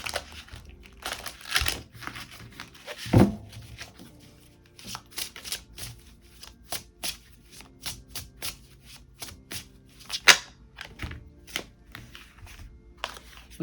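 Tarot cards are shuffled by hand in a quiet room, with irregular soft riffles and slaps and one louder burst partway through, spread across the whole stretch.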